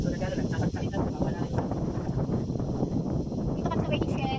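Steady hilltop wind rushing and buffeting across the microphone, loud and continuous, with a voice talking over it.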